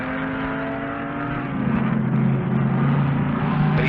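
Peter Brock's race car circles the Bathurst 500 circuit, its engine a steady loud drone that swells as it comes closer, with no voices over it.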